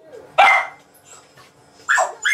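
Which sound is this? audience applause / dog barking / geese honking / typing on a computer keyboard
dog barking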